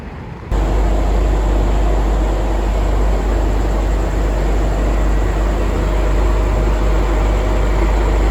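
A loud, steady Alstom diesel locomotive engine drones at close range at Surat Thani station, a constant deep rumble that starts abruptly and holds without pause.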